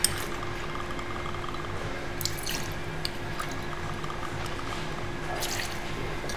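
Two ounces of Green Hat gin are poured for a gin-based cocktail, making a soft, continuous trickle at low level with no voices over it.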